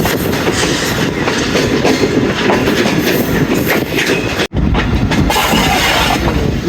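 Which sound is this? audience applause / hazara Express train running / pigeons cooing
hazara Express train running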